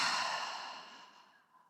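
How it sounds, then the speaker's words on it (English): A single long exhale, a breathy sigh that starts fairly loud and trails off softly over almost two seconds, with no talk. "breathe out."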